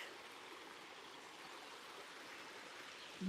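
A stream and small waterfall beside Iceberg Pond give a steady, quiet rushing hiss of running water throughout.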